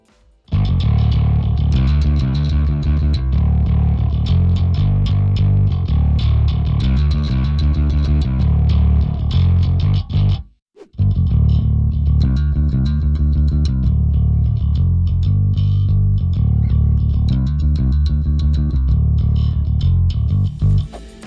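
Heavily distorted bass guitar through a Darkglass distortion pedal playing a steady riff, thick and loud throughout, with a brief drop to silence midway before the playing resumes.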